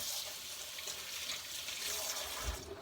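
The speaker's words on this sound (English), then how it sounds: "Let me rinse my hands." Water runs steadily from a kitchen sink tap as hands are rinsed under it, a soft continuous hiss and splash heard alone at fairly low level.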